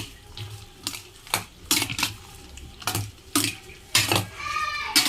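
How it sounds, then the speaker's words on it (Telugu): Ugadi pachadi with banana stirred together in a bowl, a spoon clinking against the sides in a handful of sharp, irregular taps with soft wet scraping between, close by and without talk. "మొత్తం అంతా ఇలాగ ఒకసారి కలుపుకోవాలి."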